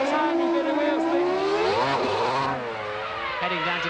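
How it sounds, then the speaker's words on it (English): A 1999 Formula 1 car on the Hungarian Grand Prix grid screams as its engine revs up and down, sharp harmonic whines climbing and dipping while other cars blare around it, loud and continuous. "I'm going to put some revs on."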